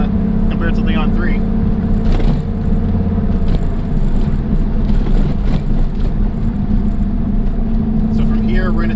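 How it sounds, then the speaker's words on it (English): A car fitted with a Next Gen VSR 78/75 turbo pulls hard, its engine droning loud and steady throughout with a whirring spool layered on top, and speech-like sounds occasionally mixed in. "turbo seems to come on pretty strong, and it's a little bit different sound as compared to the Leon 3"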